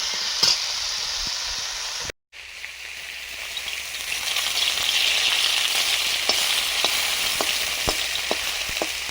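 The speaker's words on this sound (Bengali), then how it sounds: "এই সবজিগুলো ভালো করে কষবো এখন।" Mixed vegetables and drumstick stalks sauté in a hot pan with a continuous sizzle, a brief dropout partway through, and scattered stirring clicks as the frying swells louder.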